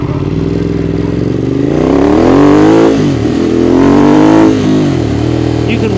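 Ducati Monster 821 with a quickshifter on a ride, loud engine rising through revs with brief dips at shifts, sustained and close.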